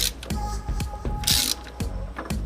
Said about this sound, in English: So again, we're going to tighten this down very tight.